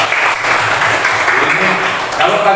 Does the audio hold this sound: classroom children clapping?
yes